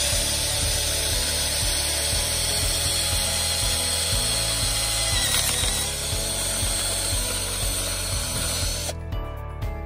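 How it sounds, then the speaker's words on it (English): Electric drill fitted with a 5/8 inch wood bit boring a hole for an e-bike handlebar mirror, a steady close whirring grind with rhythmic low ticking that runs continuously and cuts off near the end. "this 5/8 inch wood drill bit was perfect. In just a few seconds, it cut the perfect size circle"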